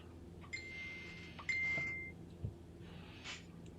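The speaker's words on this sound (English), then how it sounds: "I thought I put my phone on Do Not Disturb." A phone notification sounds in an urban setting, a thin sustained electronic beep tone rising briefly above steady background hum, followed by fainter bleeps, with no voices.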